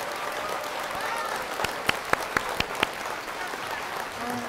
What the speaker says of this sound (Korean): 멋진 공연을 보여준 저희 강민재 양에게 큰 박수 부탁드립니다.